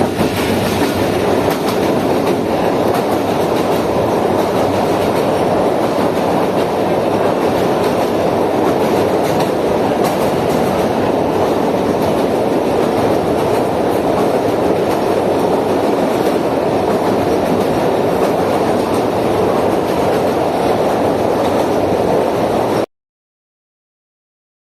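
A Shah Latif Express passenger train on the KCR line near Karachi rolls steadily toward the Malir River Bridge, its wheels giving a continuous loud rumble and clatter from inside the carriage, with no voices over it.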